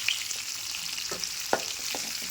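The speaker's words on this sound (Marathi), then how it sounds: "तेलामध्ये चिरी मोहरी आणि ही मिरची मस्त जर आपल्याला शिजून घ्यायची आहे" Mustard seeds and green chili fry in a shallow pool of hot oil, giving a continuous close sizzle with a few soft pops and stirring taps scattered through it.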